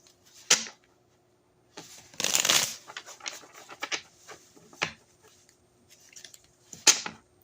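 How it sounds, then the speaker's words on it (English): Tarot cards being shuffled at a reading table: a few separate bursts of brisk riffling and shuffling patter with quiet pauses between, close and fairly soft, no talking. "one more shuffle"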